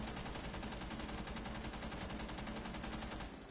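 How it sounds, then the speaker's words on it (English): Rapid automatic gunfire from Rainbow Six Siege, shot through a wall: a dense, continuous stream of loud bursts that runs the full length with no pause and no voices. "Shoot through the wall."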